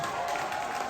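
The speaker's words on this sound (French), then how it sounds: "Mesdames et messieurs, Cancan Junior, est-ce qu'on peut applaudir très fort?" Steady applause from an audience at a comedy show, a dense wash of clapping filling the whole moment, loud and continuous with some crowd noise mixed in.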